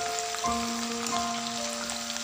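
Onions fry in a pan for an Indian arbi dish, giving a steady, close crackling sizzle that runs unbroken with faint tonal hum underneath.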